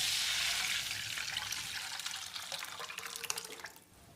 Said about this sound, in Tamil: வாணலியில் நம்ம கரைச்சி வச்சுருந்த கலவையை ஊற்றிடலாம்